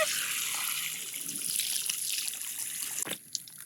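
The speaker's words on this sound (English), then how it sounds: "We have hot water, hot running water." Hot water runs from a tap in a steady, hissing trickle, close and soft, with a small clatter near the end as the flow tapers.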